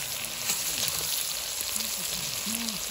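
Strong frying sizzle from meat cooking in a small pot at an outdoor camp, a steady broadband hiss filling the clip with faint voices in the background.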